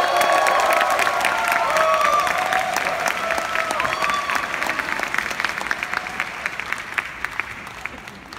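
An audience at a Cinemalaya film gala night applauds and cheers for the film's producer, a dense, steady roar of clapping with whoops that slowly thins out over several seconds.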